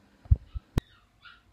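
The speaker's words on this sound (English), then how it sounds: "Ignore my dog barking in the background" A dog in the background gives a few short, muffled woofs and whimpering yips, spread over about a second and a half and fairly close.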